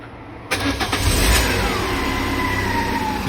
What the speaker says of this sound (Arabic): بحاول هلا اضرب مارش